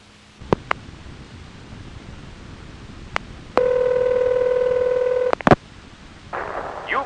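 Telephone dialing on an early 1970s line: a few sharp clicks, then a steady electronic tone lasting nearly two seconds, followed by more clicks and a brief burst of faint noise, all close and clear.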